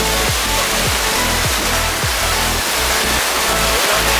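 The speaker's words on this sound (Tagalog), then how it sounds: "Alon ang magtutulak sa inyo dito." Powerful surf pounding at Sabang Beach in Baler, a loud, continuous roar of crashing water filling the whole clip, close and relentless with no breaks.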